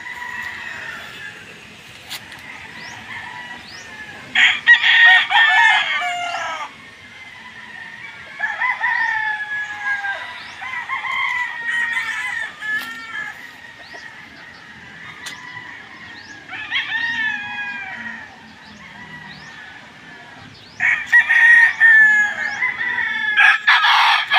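Chickens clucking and a rooster crowing repeatedly, several birds calling close by in bursts with short pauses between.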